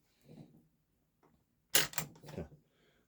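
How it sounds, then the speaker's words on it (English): The bolt of a Ruger 10/22 .177 air rifle is pulled back in a close mechanical sequence: a faint slide, a small tick, then a sharp metallic clack with rattling follow-through, all in quiet surroundings. "let's try single action, which is you just got to charge the bolt back."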